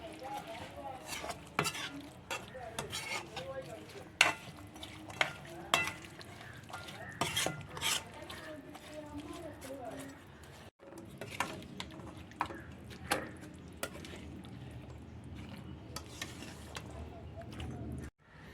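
A spoon stirs chickpea curry, Kerala-style kadala curry, in a pan, with irregular scraping clinks and knocks over a soft background simmer, fairly quiet and close.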